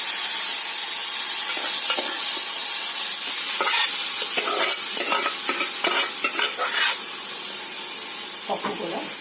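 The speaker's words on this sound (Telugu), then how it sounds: "ఇందులో కరివేపాకు వేసుకుని వేసేసుకొని ఈ పప్పు ఉడికింది కదా ఇందులో వేసేద్దామండి." Asafoetida and curry leaves hit cooked tomato dal in a loud tempering, producing a continuous hissing sizzle broken by scraping stirs and sharp spattering crackles that slowly ease off toward the end.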